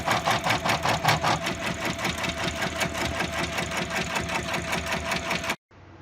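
An embroidery machine runs basting stitches on a pet dining mat held in a large hoop, giving a fast, steady, rhythmic mechanical chatter close by for over five seconds before stopping abruptly.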